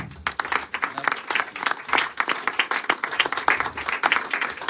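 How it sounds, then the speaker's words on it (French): A church congregation at a Sunday worship service claps and applauds together, a dense, steady stretch of many hands with faint voices mixed in. "On acclame pour Jésus."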